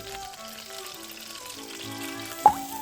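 Sliced chicken fries in oil in a wok with a soft, steady sizzle, faint and even, broken by one sharp little clink near the end.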